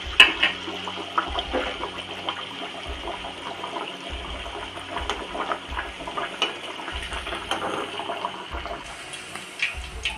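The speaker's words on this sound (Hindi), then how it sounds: "मैंने ऑयल को गर्म किया है, मैं एक पूरी उठाऊँगी और ऑयल में फ्राई करने के लिए डाल दूँगी।" A puri fries in hot oil with a steady, close-up hiss and crackling sizzle, joined by soft, regular low thumps.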